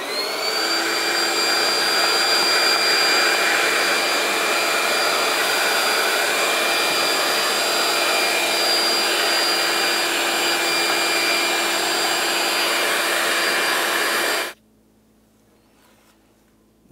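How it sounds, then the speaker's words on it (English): A vacuum cleaner sucks debris from the engine ports after EGR valve removal on a 1998-2002 Lincoln Navigator, a loud steady whine and rush for about fourteen seconds before cutting off abruptly. "Let's continue on with the vacuum cleaner to try to remove all the debris from each one of the ports"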